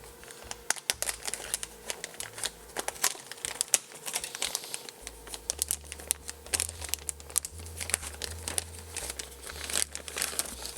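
A plastic bag holding a Synthrotek Echo eurorack synth kit is torn open and handled up close, with steady dense crinkling and crackling that runs throughout without a break.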